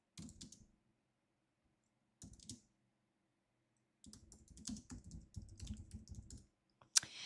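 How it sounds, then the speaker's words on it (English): Typing on a computer keyboard comes in short bursts separated by silent pauses, close and fairly quiet, with rapid clustered clicks and a sharper single tap near the end. "You hear me typing?"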